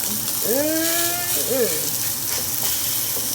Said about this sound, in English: next time you go to cook your steak, just make sure you got your pan up nice and high